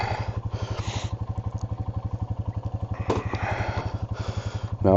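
Motorcycle idling up close with a steady, rapid lumpy thump, as light shuffling and clatter of a rider getting on are heard over it, ending in a brief sharp rev.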